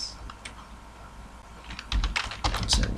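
Typing on a computer keyboard: quiet, close key clicks, sparse at first and then quickening into a dense run of taps.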